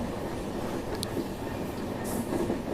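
The Coromandel Express of Indian Railways, a long train of 22-23 coaches, rumbles steadily along the track as heard from on board, with a continuous rolling roar and a faint squeal or clank near the end.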